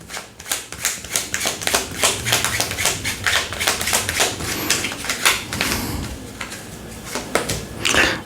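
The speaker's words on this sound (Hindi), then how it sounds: "एक सेकेंड मैं कार्ड शफल कर लेता हूँ।" Tarot cards being shuffled by hand, a close run of quick riffling flutters and snaps in an uneven rhythm, with occasional taps of the deck.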